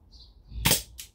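A single sharp handgun shot while plinking, loud and close, with a short tail and a second faint crack after it, no talking.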